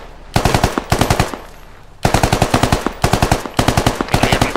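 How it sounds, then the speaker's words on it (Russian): Automatic gunfire in the military video game Squad, rapid bursts of loud, close shots in rhythmic strings, with a short pause around the two-second mark before firing resumes. "Кто стреляет? Кто стреляет? Стрелял Эйджел."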